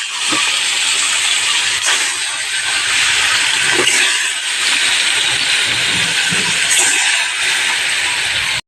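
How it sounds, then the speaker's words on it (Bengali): Fish fries in hot oil in a wok, with a loud continuous sizzling hiss throughout and occasional faint pops and clinks from the pan, no talk. "তেল গরম হয়ে গেছে মাছ দিয়ে দেবো"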